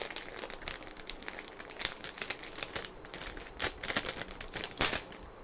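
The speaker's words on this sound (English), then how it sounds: "I was going to cut this open with scissors and then found there's an easy open thing right there." Close-up plastic crinkling and rustling in irregular bursts, with sharper crackles as the packaging is pulled open.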